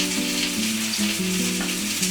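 Paneer tikka grilling gives off a close, even sizzle and crackle, with faint tonal hum underneath, lasting the whole short stretch without any talking.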